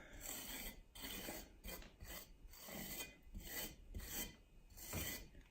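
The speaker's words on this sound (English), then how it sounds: "just scraping, still trying to get it smooth" A trowel scrapes wet plaster smooth on a wall in steady, repeated rasping strokes, each pass a close, gritty rub with brief pauses between, no voices.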